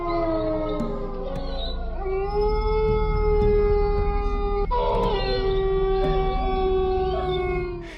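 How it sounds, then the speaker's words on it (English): Several dogs howl together in long, wavering overlapping tones outdoors at a campsite at night, sustained and fairly loud throughout with no talking. "The eerie combination of a mysterious figure perched on a tree and the howling of dogs"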